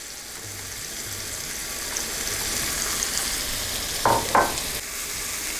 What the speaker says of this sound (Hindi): ये देखिए अब हम इसमें प्याज डाल देते हैं।